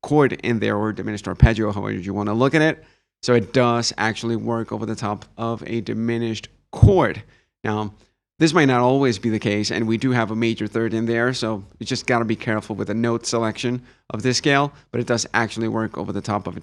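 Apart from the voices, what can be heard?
No everyday noise stands out behind the speech.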